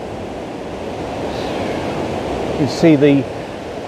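A strong waterfall throws off spray, heard up close as a constant roaring wash of water that fills the whole clip, with someone speaking briefly over it near the end.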